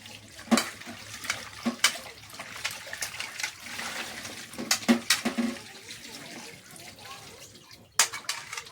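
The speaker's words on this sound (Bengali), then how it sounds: "এখন এই পেঁপেটা ধোবো" A papaya is washed by hand in water, giving a string of splashes and sloshing bursts of varying strength, close by, with short pauses between them.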